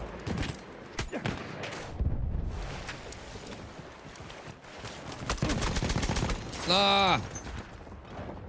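MP18 submachine gun fire in Battlefield 1 comes as scattered close bursts amid battlefield noise, with a brief shout from a voice partway through.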